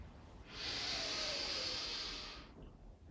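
Slow deep breath, a single long airy exhale during guided relaxation, rising and fading smoothly over a couple of seconds, close and soft against a quiet background.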